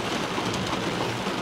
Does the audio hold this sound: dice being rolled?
no